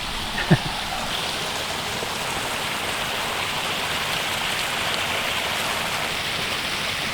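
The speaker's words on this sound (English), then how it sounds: "it's not rain, it's a little waterfall" A small waterfall on a backpacking loop in Dolly Sods, West Virginia, gives a steady, close hiss of rushing water with no pauses, broken once early by a brief knock.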